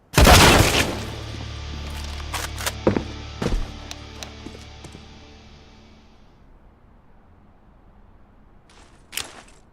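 Loud grenade blast in the video game Fortnite, a heavy boom up front followed by several sharp cracks and thuds, then a decaying tail and one more late crack.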